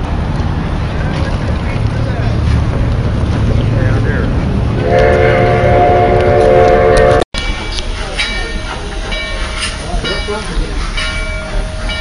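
A Durango and Silverton steam train backs out to take on sand at a railfest. It rumbles steadily and loudly, and a sustained whistle blows partway through while people talk nearby.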